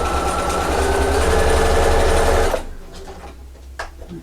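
A sewing machine stitching fabric for a quilt clip holder, a loud, fast, steady mechanical whir for about two and a half seconds that stops abruptly, followed by faint handling noises.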